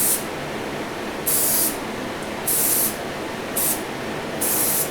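Four short bursts of Krylon primer from a spray can, each a loud hissing spray lasting under a second with gaps between, coating a Matchbox Leyland pipe truck model, with no talk.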